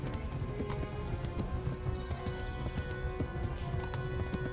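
Horse hooves in the medieval video game Kingdom Come clop in a quick, steady galloping rhythm while riding, over continuous background noise.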